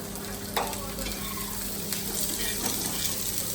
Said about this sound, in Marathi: कांदा खरपूस भाजून घ्यायचा